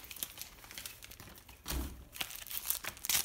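The box for a Crimson Trace CTS-103 red dot sight is unpacked close up, with continuous soft crinkling of packaging and a louder tearing rustle midway, and no talking.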